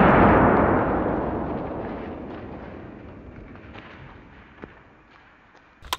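A rifle fires a poison bullet through two watermelons set back to back outdoors, producing one loud blast at the start whose rumble decays over several seconds, followed by a few small pops near the end.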